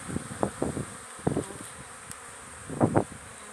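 Honeybees flying around their hive outdoors on a cool, breezy day, buzzing in several short close passes that rise and fade over a steady low hum.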